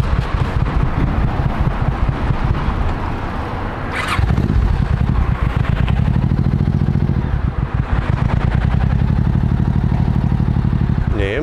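A motorcycle engine idles and putters loudly in wind at a party store, then sputters out and falls quiet before rough running resumes; a voice talks over it.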